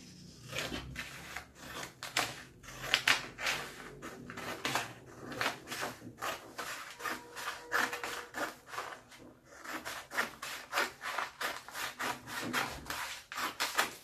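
Cutting a paper strip for a decorative gift bag produces a rapid series of dry, rasping strokes, close and fairly faint, in an uneven rhythm with a few short pauses.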